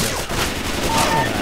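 Rapid gunfire in the zombie shooter Left 4 Dead 2, a dense burst of shots running continuously through the moment with game noise behind it.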